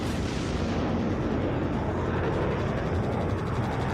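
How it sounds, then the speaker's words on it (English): A bomb dropped from an aircraft in Air Conflicts: Vietnam explodes in a continuous loud, rumbling blast that stays dense and heavy throughout, with no voices. "Dropping bomb."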